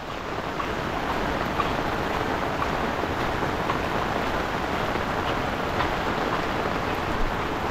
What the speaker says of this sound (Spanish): la lluvia no ha parado